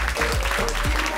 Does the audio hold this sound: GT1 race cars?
no